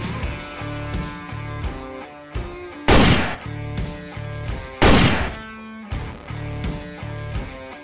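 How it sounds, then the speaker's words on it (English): Two sharp, loud simulated gunshots from a remotely controlled electronic gunfire simulator used for active shooter training ring out a couple of seconds apart over a steady electronic hum and some fainter pops. "a remotely controlled electronic gunfire simulation system"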